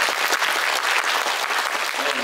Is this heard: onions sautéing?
no